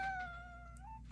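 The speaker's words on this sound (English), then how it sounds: "I wish that big old kitty yawn had not been all off camera" A pet cat gives a long drawn-out yawning vocalisation, a single close tonal whine that slowly falls and then lifts at the end, heard alone over a low room hum.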